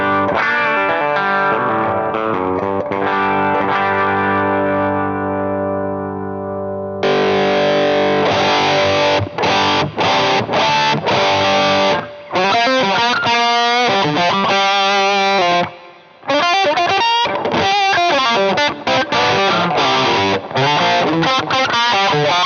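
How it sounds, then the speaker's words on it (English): Electric guitar through a full-blown Zapped Up Yours distortion pedal: a long sustained fuzzy chord rings out and decays, then a burst of heavily distorted riffing and choppy, gated strums, loud and upfront with brief pauses. "This is the Zapped Up Yours distortion pedal."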